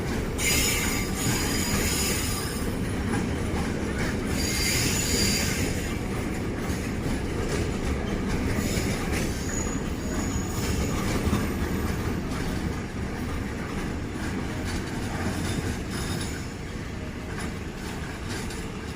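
Evening trains roll through the monkey town, with many trains passing in a row. A steady rumble of rail wheels carries on throughout, with clickety-clack joints and some wheel squeal, at moderate distance and without talk.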